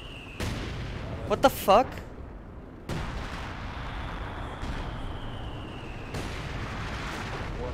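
A rocket artillery barrage in Company of Heroes 2, heavy rumbling bursts of fire and explosions rolling through in waves, with a voice exclaiming briefly partway through.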